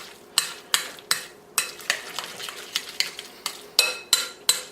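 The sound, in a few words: spoon or fork mixing guacamole with lime juice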